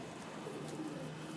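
A pigeon coos softly and faintly, a low steady murmur from a rooftop loft, with no voices.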